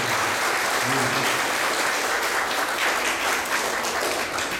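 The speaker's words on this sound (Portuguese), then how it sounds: "Uma salva de palmas" Sustained applause from an audience at a Lions-sponsored music school event in Cascais, a steady dense wash of clapping with a voice briefly speaking over it near the start.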